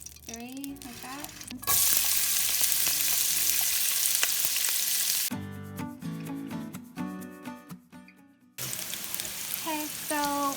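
Onions fry in oil for a vegetable rice pilau, giving a loud, steady sizzle with bursts of stirring and clatter, broken by a brief quieter stretch; a voice speaks over parts of it.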